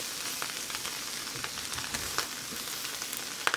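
Potatoes fry in a skillet for a one-pan loaded breakfast, making a close, continuous sizzle while a utensil flips them off the bottom with light scraping clicks.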